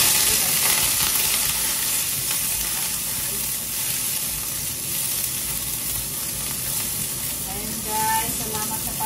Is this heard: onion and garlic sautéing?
yes